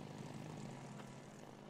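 A propeller airplane engine in the video game It Takes Two drones steadily and evenly, a close, continuous buzz with no talk over it.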